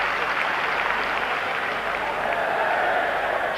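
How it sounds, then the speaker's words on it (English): Football crowd at an Everton v Coventry City match applauding a substitute, a steady, dense roar of clapping that fills the whole stretch without break. "the crowd give him the kind of reception he deserves for the way he's battled back"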